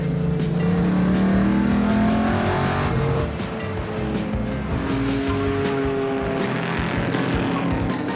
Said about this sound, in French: La course de 2 heures, la plus longue du meeting, démarre sur les chapeaux de roue